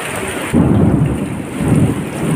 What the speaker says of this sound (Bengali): তার সঙ্গে বৃষ্টি যেমন হচ্ছে, আবার ঝড়টাও প্রচণ্ড শুরু হয়ে গেছে